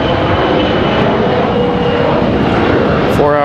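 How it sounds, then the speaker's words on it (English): A business jet departing Washington Dulles International Airport, its engines producing a loud, close, continuous roar that fills the whole stretch without letup. "Got an exec jet departing right here center."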